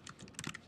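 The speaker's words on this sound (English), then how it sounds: "I'm gonna type in options" Brief burst of typing on a computer keyboard: a quick, soft run of several key clicks, close and quiet, with no talking.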